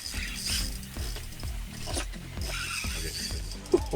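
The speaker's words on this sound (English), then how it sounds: "I need to crank this drag up a little bit." A fishing reel's drag being cranked tighter during winter trout fishing in a snowstorm, a steady run of close ratcheting clicks with one sharper click near the end, and no voices.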